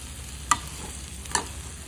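Bombay duck strips and potatoes stirred through masala gravy in a pan, two distinct spoon scrapes against a soft low sizzle, close and fairly quiet with no talking.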